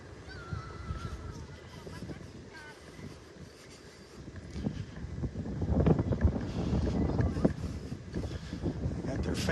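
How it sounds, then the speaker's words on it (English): Wind gusts blowing on a beach in North Naples, Florida, near a washed-out access walkway, rushing broadband noise that grows louder and more turbulent in the second half, with someone speaking over it. "that wind is picking up"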